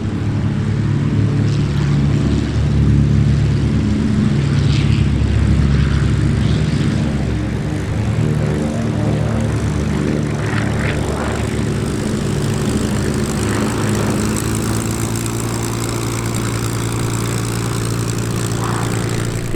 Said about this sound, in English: a very unusual formation of Dragon Rapide and Catalina